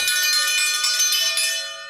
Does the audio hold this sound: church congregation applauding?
no